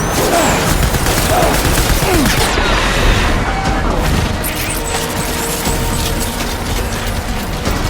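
Sustained gunfire fills a simulator game scene, a loud, dense barrage of rapid shots blended with mechanical rattling and crashes that continues without pause.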